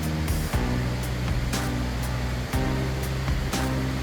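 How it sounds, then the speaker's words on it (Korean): A valley stream near Hongryong waterfall at a temple entrance rushes in a steady broad wash of flowing water, with faint rhythmic thumps underneath. "계곡 물소리가 입구부터 반갑게 맞이해줍니다."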